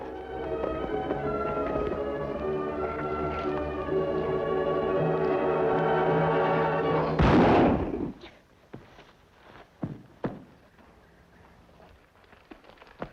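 A single sharp gunshot bursts out in a Western drama scene, cutting off a dense layer of music and leaving faint scattered sounds after it.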